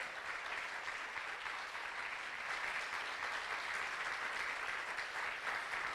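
A church congregation applauds continuously, a steady wash of many hands clapping at moderate distance without any clear pauses.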